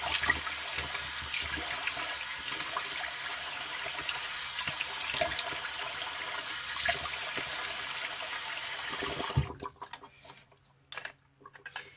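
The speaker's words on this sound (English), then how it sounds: "Let me get rid of the hot water in the sink" Hot water draining from a bathroom sink during a wet shave, a steady rushing gurgle that runs for most of the clip, then stops abruptly, leaving scattered small clinks and drips.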